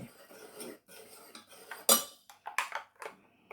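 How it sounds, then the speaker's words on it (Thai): A utensil stirs baking powder into bun dough in a bowl, giving close, irregular clinks and scrapes, with one sharp knock partway through. "ผงฟู ผสม คนให้เข้ากันค่ะ"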